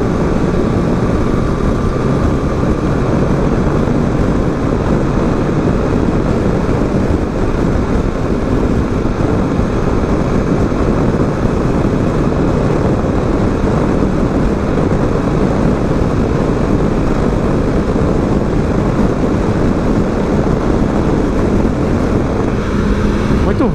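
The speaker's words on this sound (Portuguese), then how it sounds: "então acontece essa ventania" Strong, steady wind roaring against a helmet microphone on a motorcycle riding a highway, a continuous loud broadband rush with no letup for the whole stretch.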